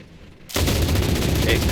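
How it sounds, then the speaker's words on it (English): Early MG42 machine gun in the video game Enlisted opens up after a brief quiet moment, a loud, dense, rapid-fire burst that continues without letup to the end. "it comes with an early MG42."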